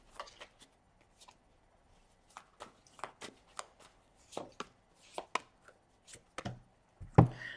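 Tarot cards being shuffled by hand in a series of quick, crisp riffles and taps with short pauses between bursts, close and fairly quiet, ending in one louder snap.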